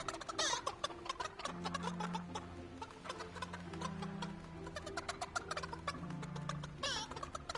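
Chickens in the video game Fortnite cluck and gobble repeatedly in a busy, close flock, with sharp bursts at the start and end over a steady background hum.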